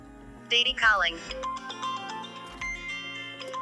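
A phone ringing for an incoming call, with a synthesized voice announcing the caller's name over a repeating ringtone melody, close and clear.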